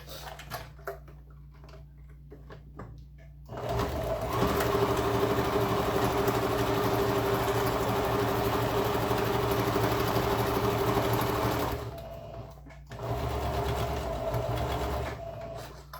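A sewing machine topstitches a seam on a shoulder bag with a slightly lengthened stitch, running close and steady in one long burst, pausing briefly, then starting again.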